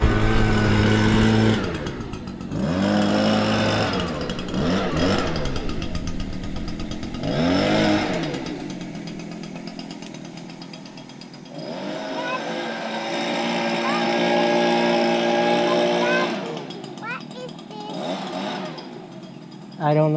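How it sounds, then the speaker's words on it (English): A backpack leaf blower runs nearby with a loud buzzing engine drone that rises and falls in pitch as the throttle changes, while people talk over it at times. "he's using my backpack blower instead of his"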